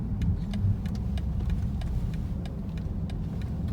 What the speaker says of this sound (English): you can still hear like the loud and aggressive exhaust note